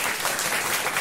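Big applause from a concert audience for a singer at a Women's Day concert; a dense, steady wash of clapping fills the whole short stretch at even loudness.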